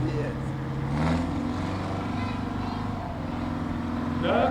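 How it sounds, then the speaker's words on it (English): A 1950 Oliver Detroit tractor in Cockshutt colors chugs along in a farm days tractor parade, its steady engine drone heard at moderate distance under continuous commentary. "won the raffle tractor last year, Chris, but he's driving in this Oliver 1950 Detroit"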